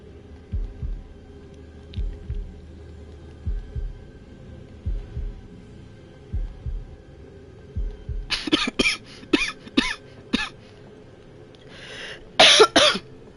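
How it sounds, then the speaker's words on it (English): Coughing during a horror game session: a rapid run of sharp, fairly loud coughs and throat bursts near the end, following quieter low thumps and breathing noises. "Sorry y'all about the coughing."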